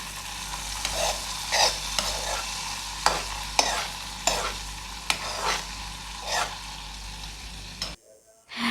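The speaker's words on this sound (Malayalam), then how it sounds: "ഇനി നമുക്ക് കടുക് വറുത്ത് ഇതിലേക്ക് ഒഴിച്ചു കൊടുക്കാം." Mustard seeds fry in hot oil for a Kerala Onam sadya style Aranmula pulissery curry tempering, giving a continuous crackling sizzle with regular stirring scrapes. The sound ends abruptly near the end, with no talking.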